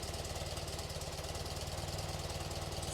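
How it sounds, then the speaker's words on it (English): A 1980s–1990s BMW engine idles steadily with a low, even pulsing throb, close and constant with no talk over it. "It's continuing to idle up there."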